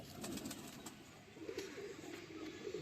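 An aged cream-coloured pigeon coos softly in a repeated low murmur close by, against a steady background hum, with no talking.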